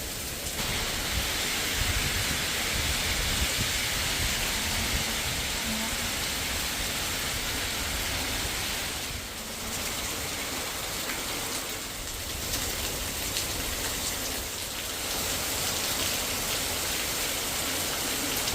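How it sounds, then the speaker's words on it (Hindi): Heavy, wind-driven rain pours down at a hillside home, a dense, constant roar that stays loud and unbroken throughout. "इतनी भयंकर बारिश आ रही है, बिल्कुल उड़ती उड़ती बारिश आ रही है"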